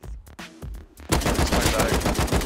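AK rifle gunfire in the video game Rust: a few sparse sharp shots at first, then a dense loud continuous burst of rapid automatic fire close up.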